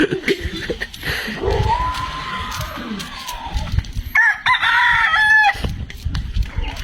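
A rooster crows twice, one long call and then a brighter, nearer one, over outdoor noise and clucking.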